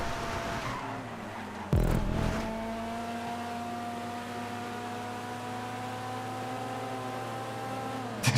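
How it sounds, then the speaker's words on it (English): Racing cars in a video game, one overtaking cleanly behind the player's car, with a steady engine drone that holds throughout and brief louder bursts as cars pass close by. "Sound of a clean overtake behind"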